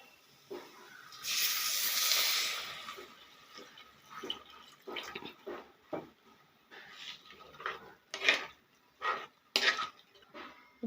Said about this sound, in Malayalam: ഇനി നമുക്ക് വെള്ളം ചേർത്ത് കൊടുക്കാം.